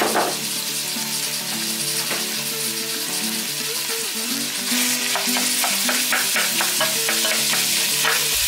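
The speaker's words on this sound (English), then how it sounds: "add the mince to the pan." Minced meat sizzles loudly in a pan of golden-browned onions for a traditional British cottage pie, with a continuous close hiss and quick rhythmic scraping and tapping of a utensil in the second half.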